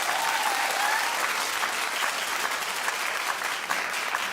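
A studio audience on a daytime talk show claps steadily, with dense, close applause that holds at an even level throughout.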